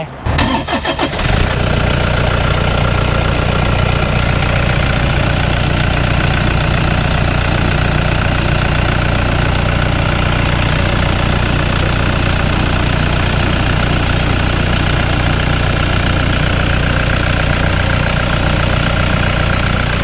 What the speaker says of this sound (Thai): เดี๋ยวฟังเสียงเครื่องยนต์กันเลยฮะ